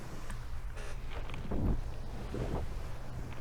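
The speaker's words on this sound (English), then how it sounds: "You can hear the wind whooshing in the background." Steady wind whooshes and buffets across an Insta360 X5 camera microphone outdoors while a kite flies, with a couple of louder low gusts rumbling through near the middle.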